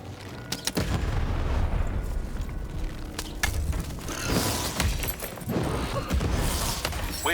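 Cannon firing in the video game Lost in Random, with loud booming blasts and mechanical clatter in a dense, continuous game soundscape; several sharp impacts punctuate the rumble.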